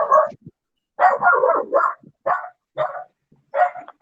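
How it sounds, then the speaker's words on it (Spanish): A dog barks five or six times nearby, in short, uneven bursts separated by brief pauses, with no talk over it. "allá alguien tiene un perro"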